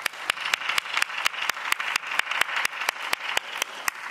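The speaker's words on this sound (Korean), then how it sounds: "우리 목사님께 감사의 박수 드리겠습니다" A church congregation applauds the pastor at a special worship service, steady crowd clapping with a few sharp, evenly spaced loud claps standing out in a regular beat throughout.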